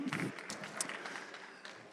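Quiet audience applause at a panel discussion on agricultural equipment and biosolutions, a soft continuous spatter of many hands clapping heard from a distance, fading slightly toward the end.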